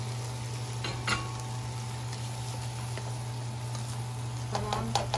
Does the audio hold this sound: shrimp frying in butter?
yes